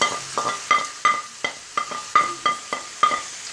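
Onion and garlic being stirred back into a frying dish: about ten sharp, evenly spaced utensil scrapes and clinks against the pan over a soft sizzle, close and moderately loud.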